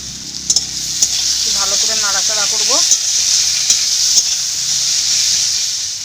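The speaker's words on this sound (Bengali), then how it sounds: "পেঁয়াজটা ভালো করে ভাজা হয়ে গেছে একদম লাল লাল হয়ে গেছে" Onions sizzling steadily in a hot pan while being stirred for a fish-head and jackfruit curry, with a constant close hiss, a few sharp scraping clicks, and a brief chirpy squeak of utensils midway.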